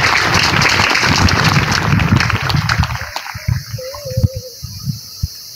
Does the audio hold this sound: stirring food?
no